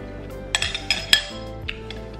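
Metal cutlery clinks and scrapes against a wine glass while someone eats from it, giving several bright, close taps in an irregular cluster, then a couple of lighter clinks later, with no talking.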